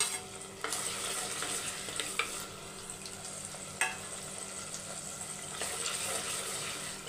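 Curry leaves and green chillies frying in hot oil for a fish curry, a continuous soft sizzle with sharp crackles and spoon stirs at a few moments, fairly quiet and close.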